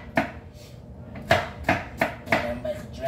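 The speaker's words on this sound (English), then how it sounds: "Now what I'm doing right now is dicing up my celery" A knife dices celery on a cutting board for an apple salad, with six or seven sharp, distinct chops in an uneven rhythm, close and clear against a quiet kitchen background.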